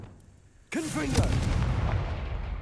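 Confringo blasting spell exploding in Hogwarts Legacy: after a brief quiet lead-in, a sudden loud boom with whooshing magical swirls bursts in, then rumbles and crackles on as a sustained blast.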